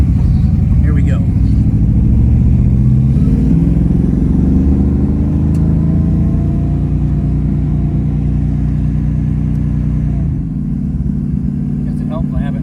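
A 1965 Ford Mustang fastback with a 289 V8 and automatic transmission drives off, a loud, steady engine rumble rising as it pulls away, with engine pitch shifting and a dip near the end.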